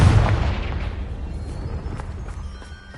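A Confringo fire spell explodes in Hogwarts Legacy, a loud low boom at the start that rolls off into a fading rumble with faint crackling, heard alone.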